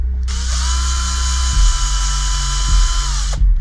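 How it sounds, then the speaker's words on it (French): A power tool drives bolts into the jackshaft of a SurRon electric motorbike. It gives a steady, loud, high-pitched whine for about three seconds, with brief dips in pitch as each bolt seats, and no talk. "on va visser en croix bien sûr"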